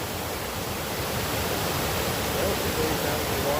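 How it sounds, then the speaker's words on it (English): An icy waterfall at The Cascades roars with a steady, loud, broadband rush heard from nearby. "And there's the waterfalls. It is kind of pretty with all the ice."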